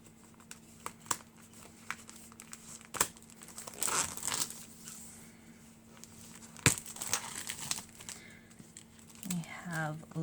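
Scissors snip open a plastic packet of gift bags, with several sharp cuts and crinkling plastic rustles spread across the stretch, close and fairly quiet.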